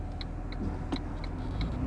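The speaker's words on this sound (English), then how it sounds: "Engine sounds healthy, transmission shift's good." A 1986 Pontiac Fiero GT engine runs steadily while driving, a low continuous hum from inside the car with faint regular ticking clicks over it and no talk.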